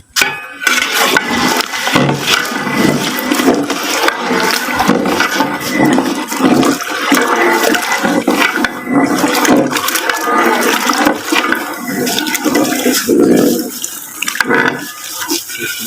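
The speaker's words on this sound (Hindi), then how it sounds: "ये पानी उबल रहा है और इसमें अब हम चावल डाल रहे हैं।" Fifteen kilograms of rice pour into a large pot of boiling water for degi chicken pulao, a steady loud rushing splash with bubbling that continues throughout.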